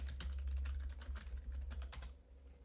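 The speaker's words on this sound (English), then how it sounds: "I'm just going to type in her name." Rapid keystrokes on a computer keyboard, quiet and close, with bursts of clicks in an uneven rhythm over a low hum and no voices.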